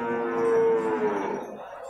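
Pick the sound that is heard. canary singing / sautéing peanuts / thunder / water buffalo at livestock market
water buffalo at livestock market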